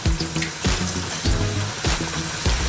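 Water from boiled chickpeas pours out in a steady broadband rush, with several surging splashes at a regular rhythm as the pot is tipped over a sink, close and fairly loud, with no voices.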